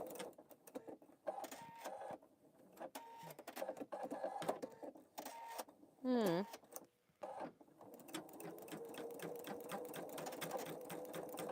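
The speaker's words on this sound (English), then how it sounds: "See, it's stitching over that bobbin thread." A Pfaff Creative Vision embroidery machine stitches in a fast, even mechanical chatter with a brief rising whir partway through, heard close at low volume while people talk over it.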